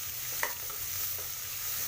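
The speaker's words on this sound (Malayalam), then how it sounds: "ഇത് ശരിക്കും നമുക്കൊന്ന് വഴറ്റിയെടുക്കണം" Finely chopped onions for a mutton kurma are sautéed in a pan, giving a faint, low sizzle with a few soft stirring scrapes, one slightly sharper near the start, and no voices.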